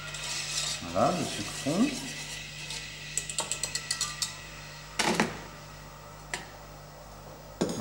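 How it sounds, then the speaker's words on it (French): A whisk stirs sugar and water in a pan while caramel is being made, giving light metallic clinks and scrapes in scattered bursts, with brief talk near the start. "À l'aide du fouet, je remue pour bien diluer le sucre et l'eau."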